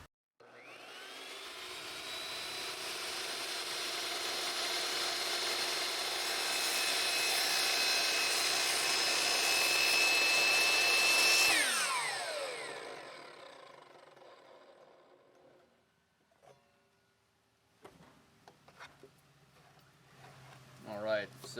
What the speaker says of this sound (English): let's make our first cut at 0-degree bevel